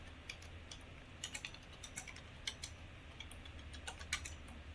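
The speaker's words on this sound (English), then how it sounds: "So I'm just typing a thing." Light, quick keystrokes on a computer keyboard tap out in irregular bursts, soft and close against a quiet room hiss, with no voices.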